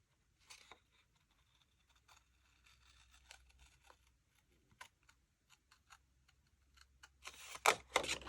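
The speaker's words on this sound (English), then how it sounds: "the top and the bottom I'm just gonna do with my scissors" Scissors snipping through paper while trimming a planner frame, a series of faint, sparse, close crisp cuts and light clicks in quiet surroundings, ending with a louder rustle of handled paper.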